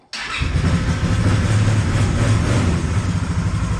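A Polaris 570 ATV engine cranks and catches abruptly, then settles into a loud, rough, rumbling idle up close, with no voices.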